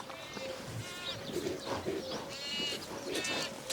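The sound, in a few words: goats bleating on a goat farm in Rajasthan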